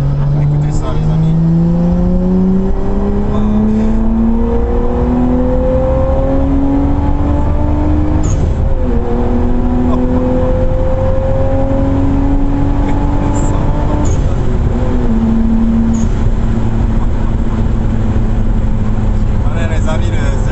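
A Nissan Skyline R34 GT-T engine accelerates hard through several gears, each pull a rising, loud engine note cut by shifts, heard from inside the car while people talk over it.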